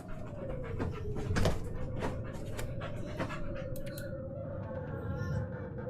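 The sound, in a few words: dogs panting in the room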